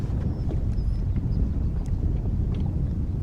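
Strong wind buffets the microphone outdoors on a cold-front day while fishing for stripers, a loud low rumble with gusty bursts throughout and no talking.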